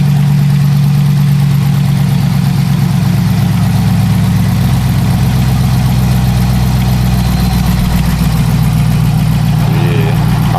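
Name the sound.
Jeep Hemi engine idling, possible Hemi tick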